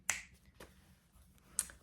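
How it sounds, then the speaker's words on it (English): Two sharp finger snaps, one right at the start and another about a second and a half later, each crisp and close against a quiet room with no talking. "So I'll snap my fingers"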